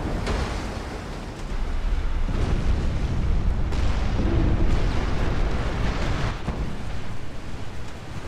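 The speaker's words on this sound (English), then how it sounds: "Here come even more torpedoes." Torpedo hits and explosions from naval warfare in the game Ultimate Admiral: Dreadnoughts, a continuous rumbling roar of blasts and deep booms that swell and overlap throughout, loud and without talk.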